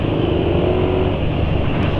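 A motorcycle engine fuelled with gasoline and a sesame oil and margarine additive revs through its exhaust, a close, loud, continuous rumbling drone that holds steady for a couple of seconds.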